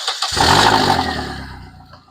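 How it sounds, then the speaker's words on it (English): A Vauxhall Corsa engine roars up loudly in a single rev, then gradually winds back down toward idle. "it's idling, and then it revs up, revs back down again"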